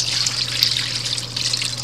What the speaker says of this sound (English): I'm going to deglaze